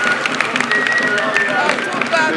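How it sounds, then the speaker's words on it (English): A crowd at the Silverbird Man of the Year Award 2016 in Lagos applauds Governor Willie Obiano with dense, continuous clapping and cheering, loud and close, with voices mixed in throughout. "A big round of applause to Governor Willie Obiano"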